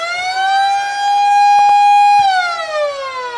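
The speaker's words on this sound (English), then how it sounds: "There's the siren, Gary." A loud stadium siren at an Australian football match between the Swans and the Saints sounds one sustained, wailing tone that holds steady, then dips in pitch as it winds down, alone with no talk.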